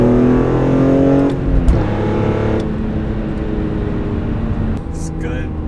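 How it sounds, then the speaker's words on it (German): A BMW E46 M3 fitted with a carbon airbox idles and revs nearby, its steady engine drone rising and falling, with people talking over it. "Gibt nichts Besseres in einem E46 M3 wie eine Carbon Airbox."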